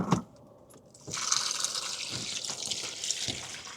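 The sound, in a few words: water filling a bucket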